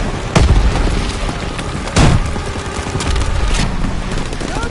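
Call of Duty battle sounds: rapid gunfire crackles continuously while two heavy booming explosions hit close in the first two seconds, with a further distant blast later amid the dense, chaotic din.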